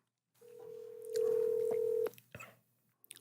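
A desk telephone being dialed to reach an agent: a short run of steady touch-tone beeps, one long sustained tone, then brief clicks near the line, with no talking.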